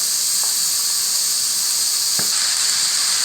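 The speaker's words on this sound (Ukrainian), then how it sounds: "І посируємо, піджарюємо так на середньому вогні." Vegetables with red beetroot for borscht frying in a pan over medium heat, giving a loud, steady sizzling hiss with a couple of faint clinks.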